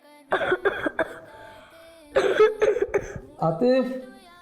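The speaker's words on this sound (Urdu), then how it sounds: "آپ کو تو کھانسی ہو رہی ہے" A child coughs in several short, rough bursts spread across a few seconds, close and fairly loud, with quiet gaps in between.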